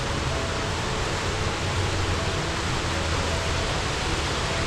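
Steady, dense rushing water roars continuously without a break, a broad wash of white noise from a nearby waterfall pouring down on a trail in Idaho.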